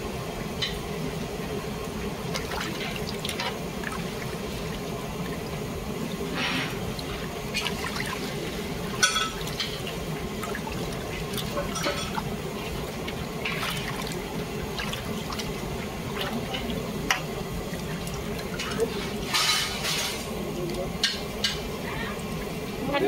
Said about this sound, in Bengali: জলটা কিন্তু ফেলে আবার ভালো করে ধুতে হবে।